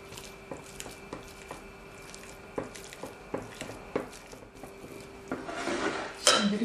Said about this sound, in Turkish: Çatal yardımıyla ezelim.